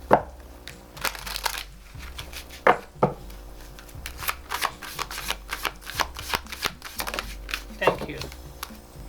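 Oracle cards are shuffled by hand in a quiet room, giving a run of quick, soft papery riffles and taps with irregular bursts and pauses.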